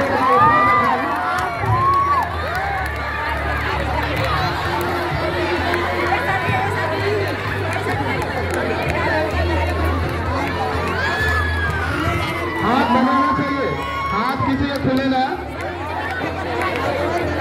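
Children at a school Christmas Day celebration in an intermediate college, a lively crowd of young voices chattering, shouting and cheering continuously, with bursts of louder excitement and a voice speaking over them.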